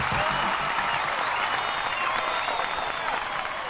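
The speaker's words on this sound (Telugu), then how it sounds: "మీరు కొడుతున్న ఈ చప్పట్లు" Steady audience applause from a crowd at a Telugu film gathering, dense clapping sustained at a loud level for a few seconds without pause.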